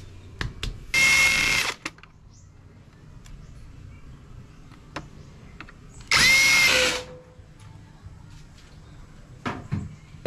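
Two short bursts of a Dongcheng power drill spinning up and stopping, loud and close, with faint clicks and handling noises in between.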